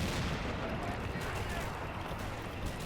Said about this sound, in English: Self-propelled gun here is going to open up at the flak.